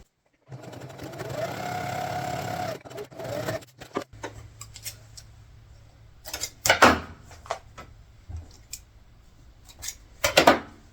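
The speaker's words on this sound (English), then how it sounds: "So I'm going to go ahead and stitch it." A sewing machine stitches a belt loop for a LARP belt favor, running in a steady whirring burst, then pausing for short clicks and handling before two brief loud bursts near the end, close and alone.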